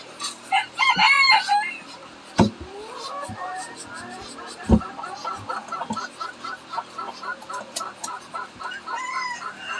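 Farm chickens clucking in bursts with a rooster crowing, close by, among scattered rustles and thumps; a person speaks briefly.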